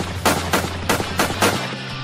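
Gunfire in rapid bursts, about six sharp loud shots in quick rhythm over a low steady hum, close and dominant with no talking.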